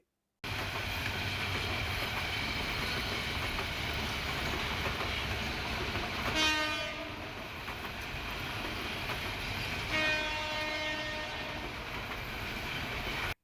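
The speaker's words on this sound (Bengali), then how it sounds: "এই রেললাইন দিয়ে প্রতিদিন ছুটে চলে শত শত ট্রেন" A train rolls along the railway line beside Kuril Bishwa Road, a loud steady rumble with wheel clatter, broken by two rising squealing screeches.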